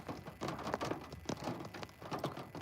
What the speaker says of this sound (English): It's raining in my town.